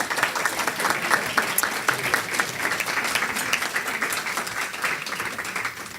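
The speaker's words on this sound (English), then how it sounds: "Can we have a big round of applause?" An audience claps for the gift basket winners at a breast and ovarian cancer awareness health event, a steady, dense round of applause sustained evenly for the whole stretch with no talk over it.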